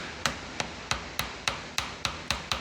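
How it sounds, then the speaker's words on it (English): Nine light, evenly spaced metallic taps work a one-piece rear main seal loose on a Chevy 350 engine, close and crisp in a quiet space with no talk. "So you're going to just tap this like this"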